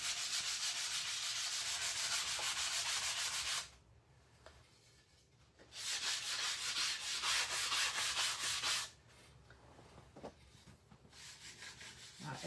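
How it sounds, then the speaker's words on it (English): Sandpaper scrubs back paint on a painting in close, dry rasping strokes: a long stretch of rubbing, a brief pause, another sustained pass, then a quieter halt before scraping resumes. "I'm going to sand that back a little bit."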